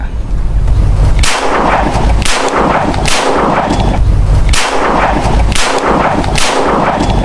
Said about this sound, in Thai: เดี๋ยวทดสอบยิงสัก 3 นัดนะครับผม